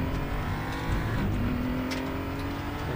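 BMW M235i Racing engine in a racing game accelerating out of a corner at Portimao, a steady loud engine drone rising in pitch over a few seconds, with no talking.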